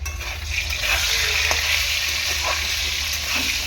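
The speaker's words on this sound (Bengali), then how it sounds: "ততক্ষণে আলুটা ভালো করে আমি কষিয়ে নিই" Potato pieces frying in a pan until browned, a steady, loud, close sizzle that holds evenly throughout with faint spatula movements.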